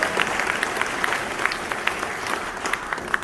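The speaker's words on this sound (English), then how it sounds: "let us give them a round of applause and lift their spirit" An audience at a New York event welcoming Guyana's President Irfaan Ali gives a dense, steady round of applause, with individual sharp claps poking out of the crowd noise throughout.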